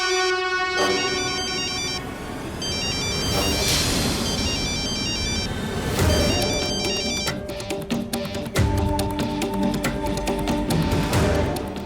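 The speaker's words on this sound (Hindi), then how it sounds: "उदय का फोन।" A melodic phone ringtone plays continuously, its electronic tune repeating with a busy, layered sound at moderate volume.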